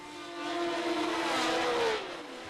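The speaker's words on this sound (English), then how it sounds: "As the field of 16 cars howled away from the start and up the hill towards Casino Square, Jackie Stewart was in the lead." A pack of 1970 Formula One race cars howls away from the start at Monaco, a loud, high-pitched engine wail that swells over half a second, holds while sweeping in pitch, then fades as the cars pull away.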